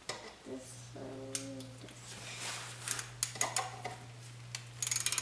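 Ratchet loosening bolts on a Kawasaki KLX 110 during an oil and filter change, heard as faint, scattered clicking bursts over a steady low mechanical hum, with a few sharper ticks toward the end.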